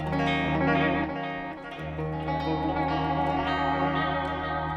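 A guitar rings through a Belle Epoch delay pedal, its modulated repeats wavering and shimmering as they stack into a dense, sustained wash.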